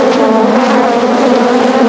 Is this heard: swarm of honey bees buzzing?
yes